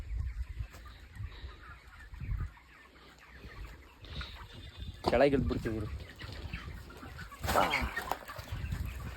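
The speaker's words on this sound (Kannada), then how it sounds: "ಕೋಳಿ ಫಾರ್ಮ್ ಹೆಂಗಿದೆ ಅಂತ ತೋರಿಸ್ತೀನಿ ನೋಡಿ" Chickens clucking inside a village poultry farm, a few short bursts and calls rising over the low hum of the sheds, with people talking throughout.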